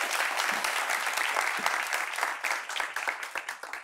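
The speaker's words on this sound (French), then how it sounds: "On l'applaudit, s'il vous plaît, pendant qu'elle arrive." Audience applause fills a hall at a French-language talk event, a dense continuous patter of many hands that stays fairly steady, then thins into more separate claps toward the end.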